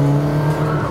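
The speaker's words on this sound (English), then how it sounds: "This engine is absolutely magnificent." Loud, close engine note of a 2021 Volvo P1800 Cyan race car, a strong steady drone held for under a second.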